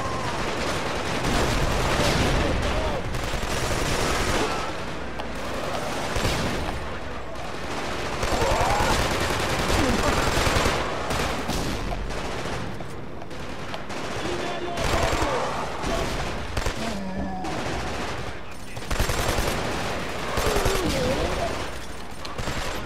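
Gunfire in the video game Killzone 2, with continuous bursts of rifle and machine-gun fire and explosions that stay loud throughout, alongside occasional voices from players.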